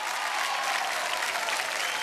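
A studio audience at the Kaun Banega Crorepati quiz show claps in a sustained, even burst of applause, loud and continuous with no break.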